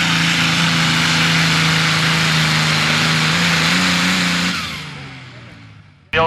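Modified pulling tractor engine at a 1993 Lebanon Area Fair tractor pull, a loud, sustained droning roar with a steady low tone that rises slightly, then fades away toward the end.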